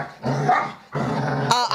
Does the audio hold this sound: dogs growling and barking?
yes